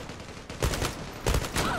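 Burst of gunfire in the shooter Zula, with rapid rattling shots in two quick bursts, fairly distant and muffled.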